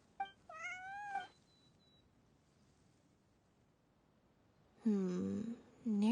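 A cat in the video game Genshin Impact lets out a short meow, then after a quiet pause gives a louder, drawn-out plaintive meow with a second cry at the end.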